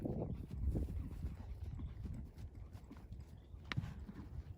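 Horse hooves clip-clopping in a steady trotting rhythm on a training ground, close and continuous through the clip with no talking.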